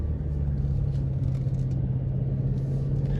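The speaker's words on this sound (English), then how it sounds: "We're gonna do another little pull on the on-ramp." A BMW X5M pulls hard up a freeway on-ramp, its engine a deep steady rumble with a constant low drone heard from inside the cabin, no voices.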